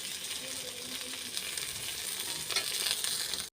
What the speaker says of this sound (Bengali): বেগুনগুলো ঝটফট করে ভেজে নিই